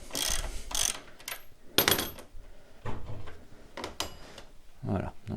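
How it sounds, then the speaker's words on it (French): A socket and a 17 mm flat wrench loosen a bolt on a Yamaha YBR 125 motorcycle during brake shoe work, giving clicking ratchet turns and metallic clinks in short bursts, close up, with someone speaking French. "Donc je prends ma douille d'un côté, ma clé plate pour bloquer de l'autre. Hop, et je viens desserrer."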